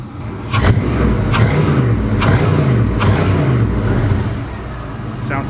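A Chevy LS 5.3 engine runs on a stand, a steady low idle rumble with a few sharp clicks or taps spaced through it and a voice talking over it.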